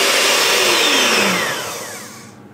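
Electric mixer whipping eggs for a Swiss roll sponge, a loud, steady motor whine whose pitch slides downward before the sound winds down and fades near the end.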